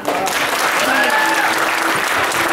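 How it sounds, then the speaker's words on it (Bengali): Audience at a Saraswati Puja stage event clapping for a children's play, a loud, dense, sustained round of applause, with a voice briefly audible over it. "তার জন্য ছোট ছেলেমেয়েদের জন্য একটা জোরদার হাততালি"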